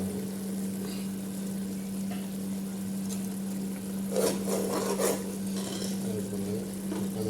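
Tuna tossed with spice powder in a pan is stirred, producing soft scraping and light sizzling over a steady hum, with a short burst of louder scraping strokes partway through and no talking.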